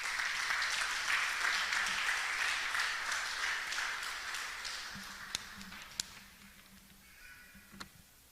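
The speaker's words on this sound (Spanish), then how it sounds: "Dale un aplauso al Señor." A church congregation at a Spanish-language service applauds, loud dense clapping that gradually fades and thins out, leaving a few scattered claps and a faint low hum near the end.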